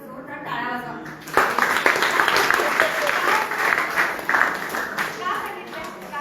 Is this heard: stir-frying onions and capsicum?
no